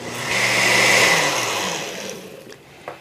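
A blender whirs loudly, churning shredded cabbage slurry with sugar for a fermented sauerkraut, swelling quickly and then easing down as it winds off near the end, with no talking over it.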